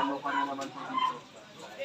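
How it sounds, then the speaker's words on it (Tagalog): Chickens clucking nearby, a few short irregular calls over a low background murmur. "Ayan yung mga manok na alaga niya, no?"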